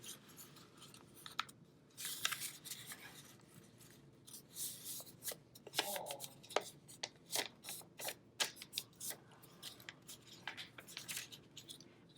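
A sheet of paper is folded in half again while cutting a four-leaf clover for an art lesson. Faint, close rustles and sharp creasing scrapes come in irregular bursts, with no talking.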